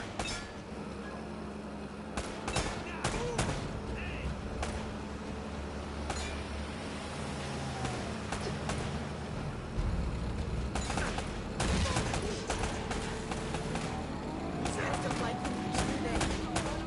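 Rapid bursts of video game gunfire from a PS4 action shooter, sharp repeated shots and clinking impacts scattered through the scene, interleaved with characters talking and a steady background score.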